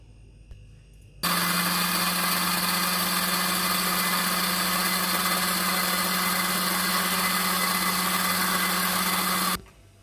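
A kitchen blender grinds a paste of fried onion, tomato, green chilies and yogurt, a loud steady motor whir that starts abruptly, runs evenly for about eight seconds, then cuts off.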